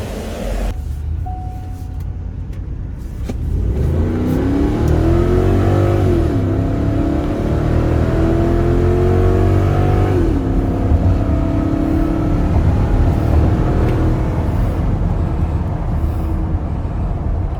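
A Ford F-250 pickup's 6.2 engine roars up through the revs, climbing in pitch several times as the truck accelerates through a 6-speed automatic, loud and close with steady road noise beneath.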